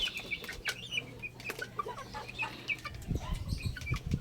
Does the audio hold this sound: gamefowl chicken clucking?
yes